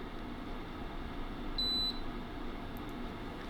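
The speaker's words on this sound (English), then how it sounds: "we've got 1 beep there" A single short electronic beep from an Aurora Aqua Optima hot and cold water dispenser, clear and high-pitched, sounding once over a steady low room hum.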